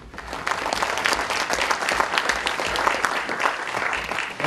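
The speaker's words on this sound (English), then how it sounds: "Michelle and Jay ITKOWITZ, round of applause" An audience claps after a presentation, a dense, lively round of applause that holds steady throughout with no voices on top.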